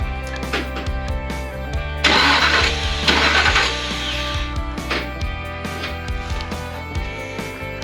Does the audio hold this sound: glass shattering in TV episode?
no